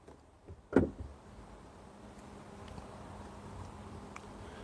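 A car door, newly fitted with sound insulation, is gently pushed shut with one dull, muffled thud, followed by quiet background hiss.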